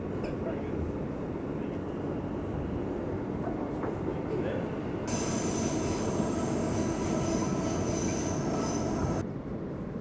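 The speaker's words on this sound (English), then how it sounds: "This is Queensbound F local train. The next stop is Lexington Avenue." A Queensbound F local train on the New York subway rumbles steadily from inside the car, with a continuous low roar and a high whine of the wheels that comes in partway through.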